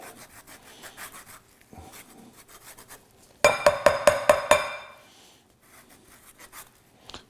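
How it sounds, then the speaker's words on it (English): A lemon is rubbed against a zester in a quick run of about six sharp, scratchy strokes, close and fairly loud, framed by quieter handling noises. "So take 1 lemon and just start zesting it"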